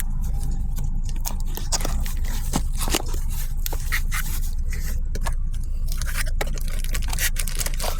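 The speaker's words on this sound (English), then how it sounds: "Let's open up this fuel pump." Packaging scrapes and crinkles as a Walbro 450 knockoff fuel pump is unboxed up close, with irregular clicks and rustles over a steady low background rumble.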